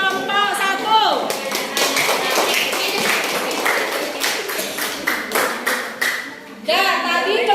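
Classroom applause for a student group: a cluster of close, sharp hand claps and taps, uneven in rhythm, with voices talking briefly at the start and again near the end.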